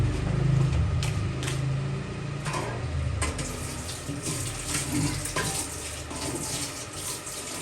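Water poured into a pan of fried crab curry, a continuous splashing stream that settles into a bubbling simmer with faint clinks.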